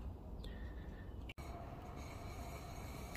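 A KDK ceiling fan, still squeaking after oil was applied, gives a faint, thin squeal over a steady low whirring hum, with a momentary dropout partway through.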